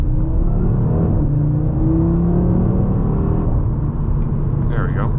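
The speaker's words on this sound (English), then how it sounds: "I'm going to take off just kind of briskly here" A 2024 8Y Audi RS3 with Unitronic midpipes pulls away briskly, its deep, loud engine rumble rising in pitch close by and then easing off near the end.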